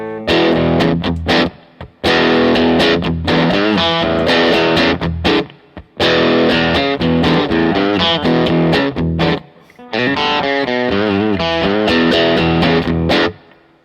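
Loud overdriven electric guitar through a Little Deuce Overdrive pedal plays gritty chords and riffs, thick and sustained with a few short breaks between phrases.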